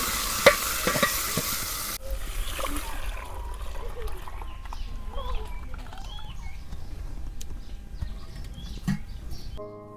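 Mustard seeds, cumin, curry leaves, green chilies and tomatoes are tempered in hot oil during village-style Indian cooking, giving a loud sizzle and stir in the first couple of seconds that settles into softer crackling and occasional clinks.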